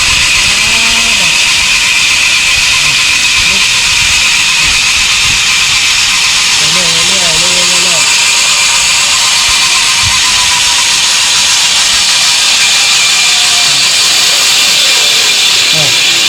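A steady, loud mechanical whine and hiss of a homemade band saw running continuously, with brief bits of voice sounding faintly over the machine.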